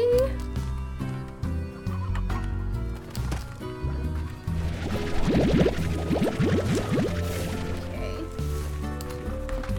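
Roosters clucking in the video game Slime Rancher, a run of rapid clucks and squawks in the middle of the stretch over steady game music, moderately loud and close.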